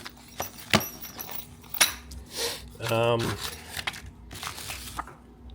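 New star bolt keys jangling and clinking as they are unpacked for a Onewheel Pint fender install, a few sharp metallic rattles and a crinkle of packaging, close by with quiet handling noises between.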